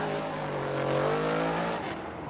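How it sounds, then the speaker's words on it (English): Ford Performance Mustang RTR drift car on Monster Energy Nitto tires at Formula Drift Irwindale qualifying, its exhaust roaring loud and sustained with steady harmonic drone, fading slightly near the end. "talking about that exhaust note, there it is again"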